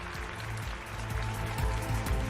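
Audience applause for a keynote speaker at a business conference in North Luzon: a steady, dense wash of clapping that holds at a fairly even level throughout, with a faint low hum underneath.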